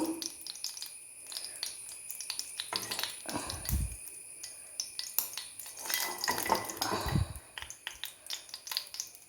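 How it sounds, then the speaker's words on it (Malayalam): Mustard seeds pop in hot oil in a cheenachatti on a lit stove, giving irregular sharp crackles and clicks over a low sizzle, with two louder bursts of spattering, close by and without talk. "കടുക് പൊട്ടി."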